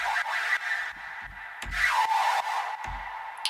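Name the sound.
synth with vocoder and pitch automation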